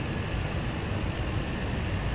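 Cessna 208 B Grand Caravan turboprop engine idling while the aircraft steers on the ground, a steady, unbroken engine drone with a low rumble and a constant hiss, no voices.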